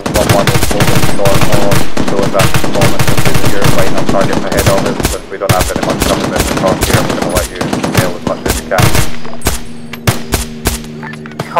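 Machine gun fire in a military shooter game campaign, dense rapid bursts of automatic gunfire, loud and close, with brief pauses and scattered single shots toward the end.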